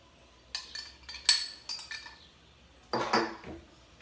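A spoon clinking against a bowl while mixing dulce de leche batter, a handful of sharp close taps and scrapes in two short clusters, fairly quiet with no talk.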